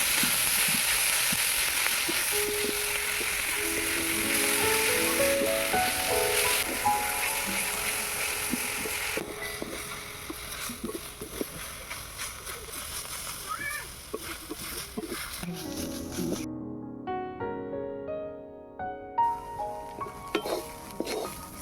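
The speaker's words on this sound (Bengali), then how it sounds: "মূলো শাকগুলোকে এবার আমি ভালো করে ভেজে নেবো" Radish greens sizzle and crackle in a hot pan, with occasional stirring and splatter, while a voice talks and music plays over parts of it.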